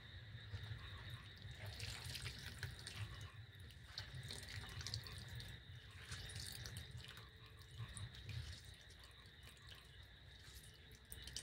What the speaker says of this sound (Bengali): এখান থেকে জল চিপে আমি বের করে নেব।